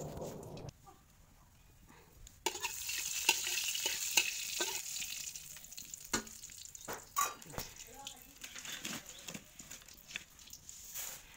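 Fish, onion and masala sizzle in hot oil, a hissing fry broken by scattered clinks and stirring scrapes, quieter at the start and then louder and busier.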